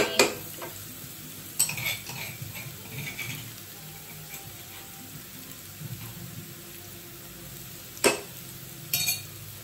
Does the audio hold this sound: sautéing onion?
yes